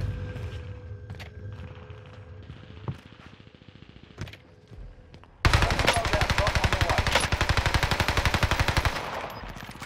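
Gunfire from an Owen Gun in Warzone's Rebirth mode: scattered quieter shots early on, then loud, sustained rapid automatic bursts from about halfway through to the end.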